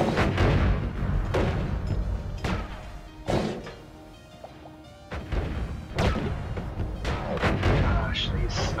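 Sniper fire in the video game Noita booms as a series of heavy, close, punchy shots with thudding impacts, spaced irregularly and with a quieter gap midway.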